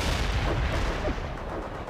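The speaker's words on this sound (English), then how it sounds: "We're bombarding the target area." An artillery bombardment rolls on in World in Conflict, a dense, continuous rumble of distant heavy blasts blending into one loud roar without clear gaps.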